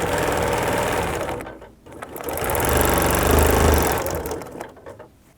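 A sewing machine stitches quilting lines in fabric, a steady loud mechanical whir that dips briefly to near silence, then restarts and runs on at full speed.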